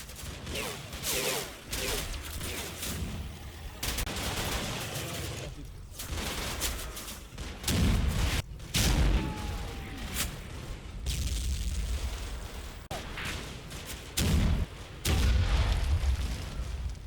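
Tank and small-arms combat in the Combat Mission: Fortress Italy war game, with a Sherman tank engaging; repeated booming cannon shots and bursts of gunfire sound at intervals over a continuous rumbling battle background.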